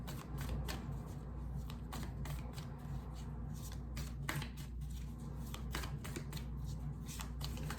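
A deck of cards is shuffled repeatedly at close range, with crisp riffling bursts recurring in an irregular rhythm over a low steady hum, and no talking.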